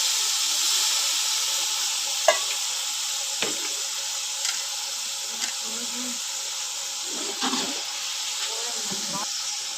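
Water poured into a hot pan on a home kitchen stove sizzles in a steady hiss, with a few faint clinks on top and people talking quietly in the background.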